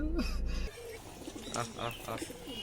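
Pet pigeons and doves at a home feeding spot coo softly in short bursts, with a brief stretch of louder low rumble at the start before the birds carry on.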